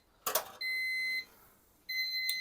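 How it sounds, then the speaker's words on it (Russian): Digital kitchen thermometer beeping while baking Castella cake: a short clatter, then two sustained high electronic beep tones with a brief pause between, clear and close. "Пикает термометр, значит, выставлено 80 градусов."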